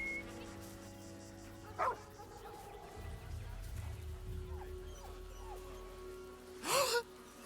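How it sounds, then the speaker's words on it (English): Dog named Scratch in Baldur's Gate 3, two short, sharp barks a few seconds apart, close and clear over faint game ambience, with a voice murmuring softly in between. "He's a good dog."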